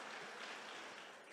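A church congregation claps together during a sermon, a steady dense patter of hands that holds level for a moment before thinning slightly, heard at a distance with no voices over it.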